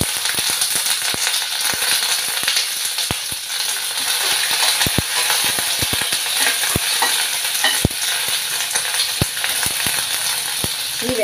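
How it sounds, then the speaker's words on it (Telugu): A tempering of urad dal, mustard seeds, dried red chillies and curry leaves sizzles steadily in hot oil, with scattered sharp pops and crackles throughout, close and without voices. "తాలింపు వేగిపోయింది."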